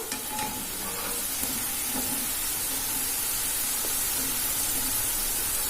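Snake gourd vadas frying in hot oil, a continuous close sizzle and crackling hiss that holds steady throughout with no voices.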